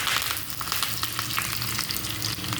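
Mustard seeds, ginger garlic paste, curry leaves and red chillies sizzle and fry steadily in hot oil for a dal tadka tempering, a close, continuous crackling hiss with no one speaking.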